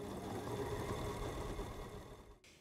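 A sewing machine runs steadily and close, top stitching a fabric mailbox cover with a fast even mechanical whir, then stops near the end, with no talk.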